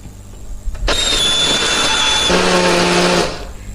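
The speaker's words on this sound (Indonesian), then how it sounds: "Hari ini aku pakai blender aja." An electric kitchen blender grinding spice paste with a little water or oil starts abruptly and runs loud and steady for about two and a half seconds, its motor pitch shifting partway through before winding down, with no talk.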